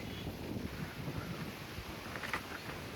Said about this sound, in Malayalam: ഓ, കാറ്റ് നല്ല കാറ്റ്.